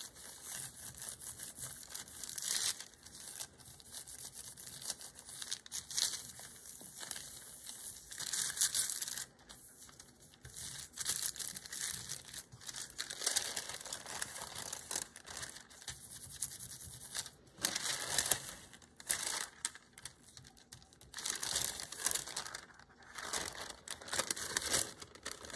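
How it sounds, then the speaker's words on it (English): A sheet of deli paper is rubbed by hand over an inked gel printing plate, making continuous crinkling and rustling scrapes in uneven bursts, close up and fairly quiet, with no talking. "I'm just going to rub on top with a sheet of deli paper to pull up some of that ink."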